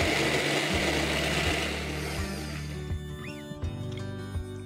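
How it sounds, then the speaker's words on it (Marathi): A kitchen mixer grinder whirring as it grinds a spice masala, a loud steady buzzing drone that fades out toward the end, leaving quiet background music. "आणि आता आपण हे मिक्सरला ग्राइंड करून घेऊया।"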